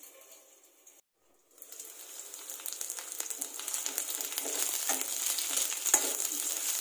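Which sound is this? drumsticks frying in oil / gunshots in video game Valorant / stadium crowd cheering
drumsticks frying in oil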